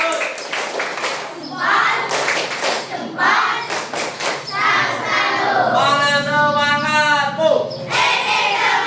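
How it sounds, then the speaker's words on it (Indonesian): Classroom students clapping hands in rhythmic bursts, loud and close, several distinct rounds of synchronized claps with children's voices and a teacher talking between and over them. "Lebih semangat lagi, tepuk tangan."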